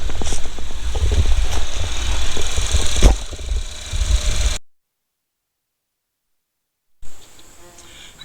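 A Ford Edge with the 2.0 EcoBoost engine idles while warming up before an oil change, a steady close buzzing hum with a few knocks, cut by a gap of silence before resuming.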